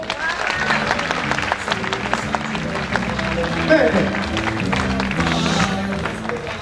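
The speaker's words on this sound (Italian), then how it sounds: "Vieni lo scettro, applauso." Audience applause at a chili pepper eating championship, a sustained crowd clapping under a loud announcer's voice and background music.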